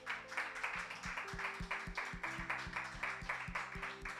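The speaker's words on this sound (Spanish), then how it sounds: "Vamos a darle un aplauso, iglesia." A church congregation claps in a steady, regular beat over sustained low musical tones, the claps fairly faint and evenly spaced, with no speech.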